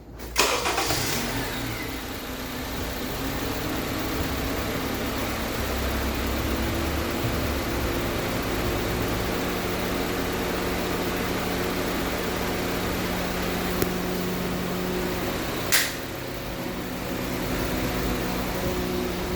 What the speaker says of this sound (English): Now I'm going to start my car up and let it run for about a minute.